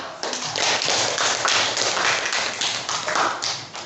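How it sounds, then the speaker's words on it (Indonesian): Group of people clapping hands in steady repeated claps, fairly loud and close, with no voices over them. "Mari jalan tepuk tangan."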